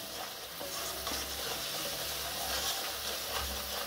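Onion and spices frying in a pan for a rohu fish curry, giving a quiet, steady close sizzle with light stirring and a low hum underneath.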